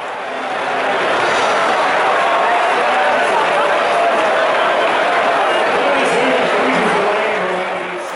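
Massive crowd at Oktoberfest, the world's biggest beer party, heard from above as a dense, steady roar of many voices and chatter that holds loud and constant throughout.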